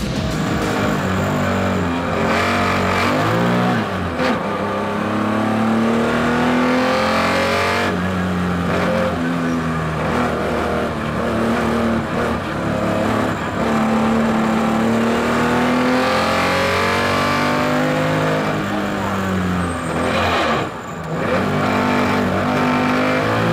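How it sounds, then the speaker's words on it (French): Onboard a Porsche 911 rally car on the Sainte-Baume special stage, its engine loud and close throughout, revving up and down through gear changes with a continuous roaring drone. "nous en vivons quelques instants à bord de la Porsche 911 de l'équipage numéro"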